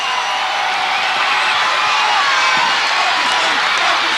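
A dense, steady roar of arena crowd cheering and applause fills the air at a UK Gladiators television event, loud and continuous throughout.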